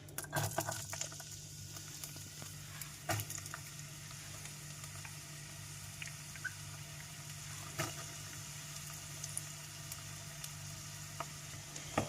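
Onions sizzle and crackle steadily in hot oil in a pan, with occasional sharper pops and stirring scrapes throughout.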